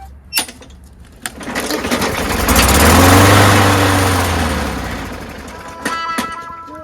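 A lawnmower engine sputters after a few sharp clicks, catches and runs, swelling to a loud steady drone before easing back to a rougher idle with a couple of knocks.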